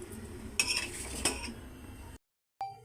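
A spoon stirs chunks of taro into a thickening curry in a pan, with a few close scraping, clinking strokes against the metal that stop abruptly, then a short silence and one final clink.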